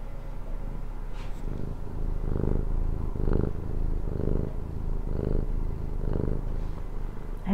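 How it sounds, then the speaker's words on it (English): A pet cat purrs loudly and close by, a steady low rumbling broken into rhythmic pulses with each breath, with no other sounds. "she has a loud purr"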